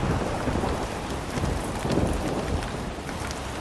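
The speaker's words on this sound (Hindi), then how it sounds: "लेकिन घर पर आते ही भयंकर बारिश शुरू हो गई" Heavy rain pours steadily with rumbling thunder underneath, a dense, loud and continuous wash of noise with no voices.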